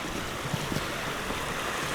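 The River Porter flows briskly near its source in Porter Clough, Sheffield, a close, steady broadband rush of stream water with a few small splashes and no voices.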